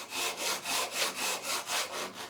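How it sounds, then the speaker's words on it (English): Handsaw strokes cutting a small wooden angle block, about nine even rasping pushes and pulls in a quick, regular rhythm, close and clear with nothing else heard. "I cut it out with a handsaw"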